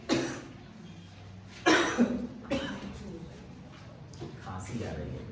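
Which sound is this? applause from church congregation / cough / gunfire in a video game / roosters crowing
cough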